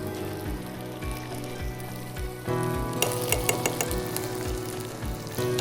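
Butter sizzles loudly in a pan for lemon garlic chicken, cooked over low heat, with steady close frying crackle that swells partway through, plus a few clinks and a rhythmic low thumping under it.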